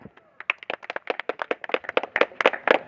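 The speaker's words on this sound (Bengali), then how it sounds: "যারা নাইট রাইডার্সের জন্য একটু হাততালি হোক।" A small group claps for the Zara Knight Riders cricket team, a quick run of sharp, uneven hand claps that builds slightly and carries on without pause.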